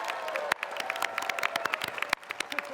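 Audience applause at a college Ivy Exercises ceremony, a steady wash of many hands clapping with scattered sharper claps and a bit of crowd noise, fairly loud throughout.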